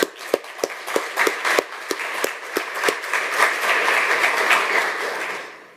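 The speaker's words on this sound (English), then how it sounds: "Can we give him some applause?" Audience applause for the uWSGI lead developer at a technical talk, starting with a few separate sharp claps that quickly grow into a steady round of clapping before fading out.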